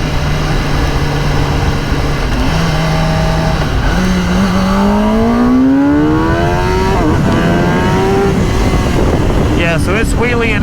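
A 2021 Kawasaki ZX-10 sport bike is ridden on the street, its engine roaring loud and close as it revs up, shifts, and climbs again in rising pitch sweeps while wheeling in second gear, with road and wind noise underneath.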